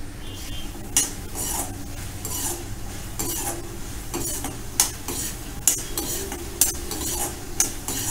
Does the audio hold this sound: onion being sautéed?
yes